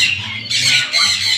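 Jenday conure parrots in an aviary: loud, harsh, shrill squawks close by, two overlapping calls in quick succession within a second and a half.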